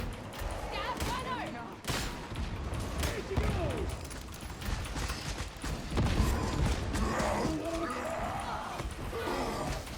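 Gunfire from enemy gunners in the video game Darktide rattles in bursts and volleys, mixed with heavy impacts and clanks, while a player talks over much of the chaotic action.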